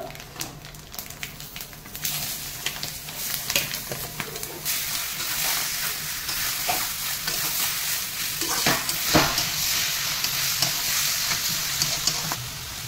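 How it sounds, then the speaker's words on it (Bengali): Raw mango pieces sauté with turmeric and spices in a pan for a sweet spiced pickle, giving a steady close sizzle with frequent scraping stirs throughout, no talking. "এই আমার আমগুলো কষানো হয়ে গেছে"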